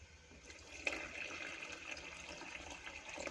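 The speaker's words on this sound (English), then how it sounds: "I'm going to pour the water bit by bit." Water pours in a thin, steady stream into bread ingredients, a soft, continuous trickle with a small splash near the start, quiet and close, with no voices.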